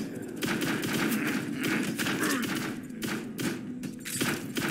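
Enemy gunfire in the first-person horror shooter Forgive Me Father 2, a dense fusillade of rapid overlapping shots and thuds that keeps going throughout, loud and close with brief dips between bursts.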